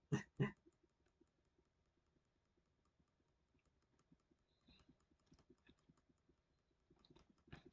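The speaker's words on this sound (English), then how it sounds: "if you hear the excessive clicking, yes, that is me trying to get all the money I need to build this" Rapid mouse clicking while playing OpenTTD, a steady run of small, faint, close clicks at the computer, with a few louder knocks at the start and near the end.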